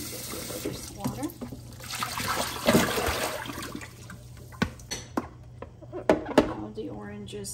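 Water poured away from a container of orange peels, a splashing, trickling pour with a few sharper sloshes toward the end, under faint background hum and some talk.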